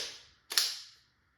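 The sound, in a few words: Tippmann TMC paintball marker firing rounds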